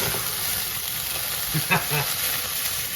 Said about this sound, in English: That's called deglazing the pan.